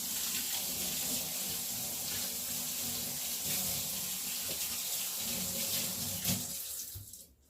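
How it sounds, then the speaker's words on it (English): Tap water runs steadily into a sink as hands are rinsed in a home kitchen, a continuous hissing splash that carries for about seven seconds before the flow is cut off. "Let me just rinse my hands"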